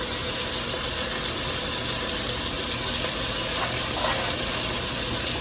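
Cabbage frying in a pot with a couple of tablespoons of fat, browning at the bottom, gives off a steady, dense sizzle and hiss that holds level the whole time with no talking.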